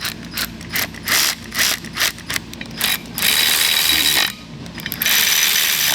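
The winch spool on a Land Cruiser 80 with a 12,000 lb winch is turned, giving close, loud, rapid ratcheting clicks in bursts followed by a sustained mechanical grinding whir.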